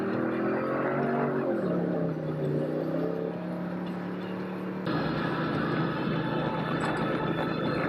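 Ford Raptor pickup truck with upgraded brakes and steering pump drives hard along a rough off-road trail, its engine droning loudly and shifting pitch as it accelerates, with a steady rumble and no talking.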